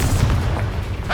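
In Hogwarts Legacy, a Bombarda spell blasts during a duel: a short, heavy, rumbling boom fills the moment without any voice.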